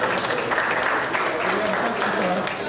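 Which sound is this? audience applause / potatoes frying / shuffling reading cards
audience applause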